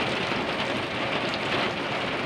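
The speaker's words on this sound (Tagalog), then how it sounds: "kusog yung ulan dire guys" Heavy storm rain pours steadily and loudly, a dense continuous hiss of drops on surfaces with no voices.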